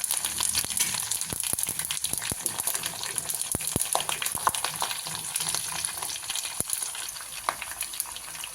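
Hing and spices sizzle steadily in hot oil as a tempering for khandvi, a close, continuous crackling hiss with scattered sharp pops and no talking.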